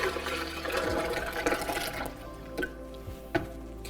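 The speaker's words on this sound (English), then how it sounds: "I put a cup of almonds in 5 cups of water, and we're just gonna pour that all right in here" Soaked almonds and water, about a cup of nuts in five cups of water, pour into a blender jar as a steady splashing liquid rush. It thins out midway, and a few small knocks and clunks follow.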